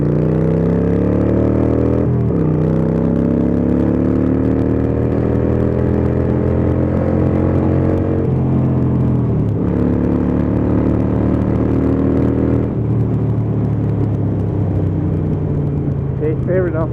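A Harley-Davidson Iron 883 motorcycle accelerates through several gears while overtaking traffic, its engine note rising and falling in repeated surges. The motor is loud and close, with wind noise under it.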